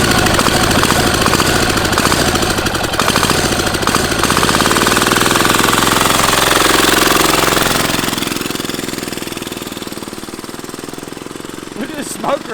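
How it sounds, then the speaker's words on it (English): A turbo diesel racing go-kart engine roars loud and close with a harsh, knocking clatter, then eases and recedes as the kart pulls away. "it's time for the first test of the diesel kart"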